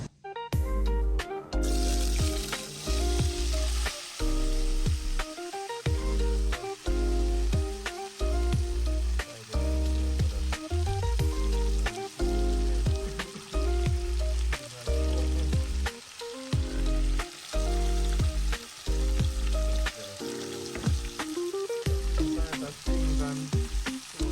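Tilapia and vegetables frying in oil for Jamaican brown stew fish, a loud, continuous close sizzle with bursts of crackling and repeated stirring clatter, and no talking.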